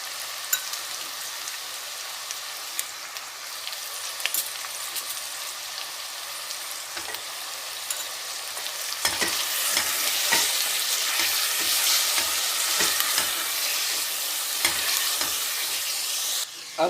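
Onion paste frying in a pan for mutton korma, a steady close sizzle throughout that grows louder and busier about halfway through, with scattered stirring clicks and scrapes and no talking.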